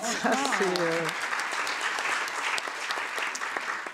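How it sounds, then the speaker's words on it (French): Steady applause from a conference audience fills the room, with a brief voice at the start before the clapping continues. "Je crois que ça t'applaudit."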